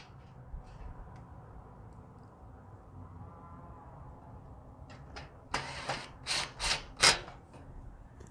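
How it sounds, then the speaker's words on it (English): A screw is driven into the frame of a Char-Broil Big Easy oil-less infrared turkey fryer during assembly, heard as a run of four or five sharp, close ratcheting bursts with short pauses between them after a quiet stretch. "I'm going to take the larger of the set of screws and now screw this right in."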